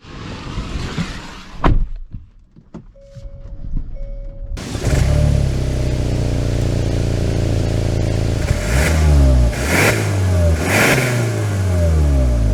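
A Hyundai Santa Fe Calligraphy heard first with door and cabin handling sounds, then the engine starts and the car pulls away, a steady close engine drone rising through several accelerating gear shifts.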